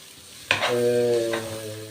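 Mock pigeon being stirred in a hot pan, a sudden scrape of the spoon followed by steady close sizzling frying that continues under a second brief stir, no voices.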